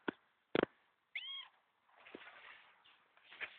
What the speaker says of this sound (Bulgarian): кажи мяу на Анито